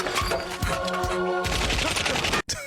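Machine gun fire in the 1996 Doctor Who film, a dense, loud fusillade of overlapping shots and clattering bursts that cuts off sharply near the end, with no talk.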